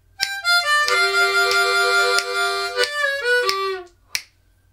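Blues harmonica lick played with tongue blocking, a run of sustained bright reedy notes with bends and sharp rhythmic attacks, loud and close, ending in a short accented chord.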